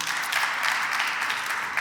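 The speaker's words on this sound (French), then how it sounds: "la déléguée générale de la DER/FJ, M. Nden, que je vous prie d'applaudir." An audience applauds during a panel at Senegal's national urban cultures salon, a steady, moderately distant clatter of many hands clapping that carries through the whole moment without speech.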